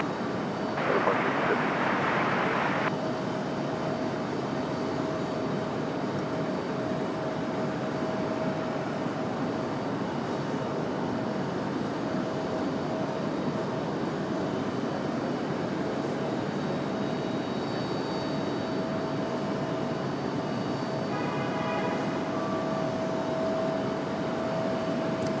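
A Delta airliner takes off from runway 23 right at Raleigh-Durham International Airport, its jet engines giving a steady, broad roar that holds throughout, with a sustained whine running underneath.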